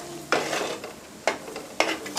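Three scraping strokes of a spoon stirring drumstick and eggplant into masala in a pan, each with a short sizzling rustle, at an uneven pace, close and fairly quiet.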